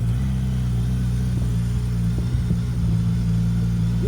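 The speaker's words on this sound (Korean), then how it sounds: "자, 한 김에 배기음 한번 들어볼까요?" A Suzuki GSX-S1000GX cross-tourer motorcycle idles close by, its exhaust giving a steady, loud low rumble with a faint blip of the throttle midway.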